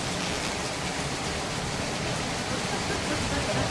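Steady rain pours around a parked C8 Corvette Z06, a dense, even wash of falling water that stays loud and unbroken throughout, with no clear voices over it.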